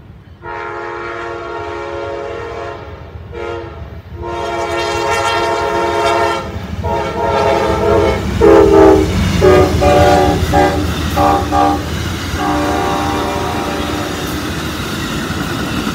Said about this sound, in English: I believe we have a very late Amtrak 97, and it looks like we do. Coming down the track.